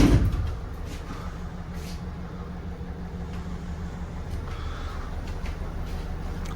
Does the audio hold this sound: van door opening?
yes